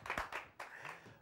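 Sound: audience applause welcoming Jeremy Clarkson

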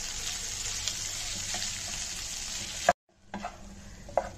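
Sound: stirring mashed potatoes in a pan

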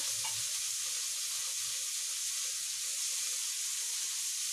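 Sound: prawns sizzling as they are fried in a pan

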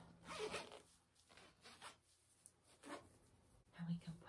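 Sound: zipper being zipped up

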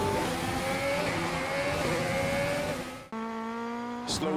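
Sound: F1 race cars racing in F1 2020 video game

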